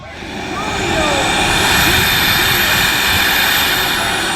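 An E-flite Viper RC jet with a turbine conversion flies past, its loud, sustained turbine whine and roar building and holding steady overhead.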